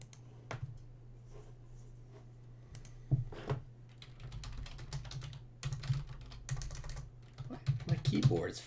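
Quick, irregular clacks of fingers on a computer keyboard, played close and fairly soft over a low steady hum, with bursts of keystrokes that thicken toward the end.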